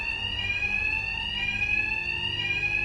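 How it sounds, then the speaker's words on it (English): A fire alarm rings steadily in the video game Batman: Arkham Knight, a loud, continuous electronic tone with a bright pulsing edge that holds without a break, with no talking over it. "My attacks will be covered by the noise of the alarm."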